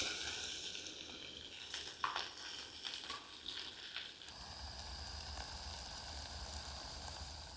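Breaded Cajun-seasoned shrimp fry in a pot of avocado oil outdoors, a soft, steady sizzle and crackle with a few sharper pops early on, fairly quiet throughout.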